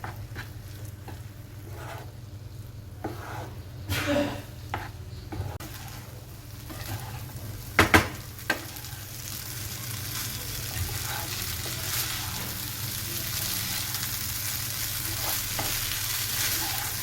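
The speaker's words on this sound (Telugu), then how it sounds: "ఈ రైస్కి మొత్తం టమాటో పేస్ట్ బాగా పట్టేలా కలుపుకోవాలి." Leftover rice being stirred into tomato paste in a pan for tomato rice, a soft, low sizzle with intermittent spoon scrapes and clacks against the pan, close and fairly quiet, no voices.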